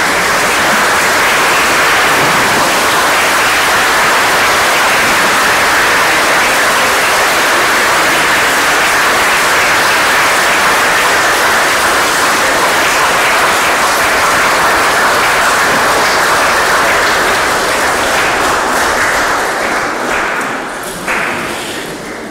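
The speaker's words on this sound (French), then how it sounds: "vous pouvez vous lever et les applaudir" A standing congregation applauds in a Protestant church in Paris during a Pentecost Sunday service, a dense, sustained roar of clapping lasting about twenty seconds before thinning out at the end.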